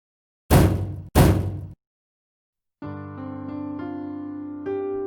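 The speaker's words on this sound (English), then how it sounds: "he hears some loud banging on metal" Two loud, heavy bangs strike an old, rusted metal locker door in quick succession, each ringing briefly, followed by a sustained tonal music cue with no talk.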